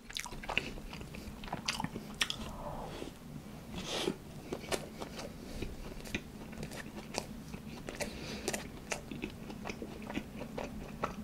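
A Burger King shrimp burger and cheese bulgogi burger are eaten close to the microphone, with steady soft bites, squishy chewing and occasional crunches throughout.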